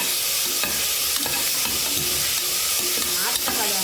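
Tomatoes fry in a hot pan with a constant sizzle, broken by repeated scraping strokes as they are stirred, with no talking.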